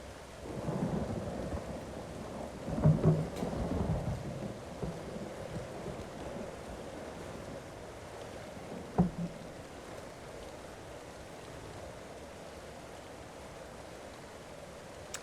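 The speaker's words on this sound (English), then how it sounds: "It's actually raining." Steady rainfall in the video game Elder Scrolls Online hisses throughout, with a couple of low thunder rumbles around the early seconds and a sharp crack midway; no talking.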